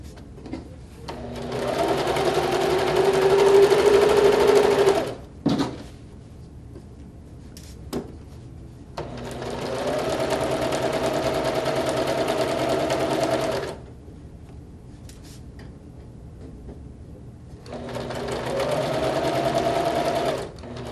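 A sewing machine runs in three sustained stitching bursts, each a few seconds long, separated by short quiet pauses while the fabric is turned at corners; loud and close, with no talk over it.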